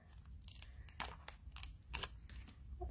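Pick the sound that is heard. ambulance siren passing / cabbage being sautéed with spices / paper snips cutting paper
paper snips cutting paper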